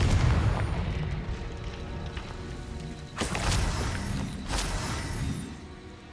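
A Confringo fire-blast spell in Hogwarts Legacy goes off as two sharp bursts against a rumbling game soundscape, each with a loud broadband crack and boom, the second following a beat after the first.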